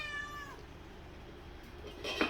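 A domestic cat meows once near the start, a short rising-falling cry, then a quieter kitchen backdrop follows while prime rib is being prepared.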